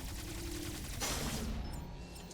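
Metroid Prime's Omega Cannon fires in one heavy blast, a sudden bright burst that rises over a constant, dense bed of game music and effects, then tails off with a little crackle.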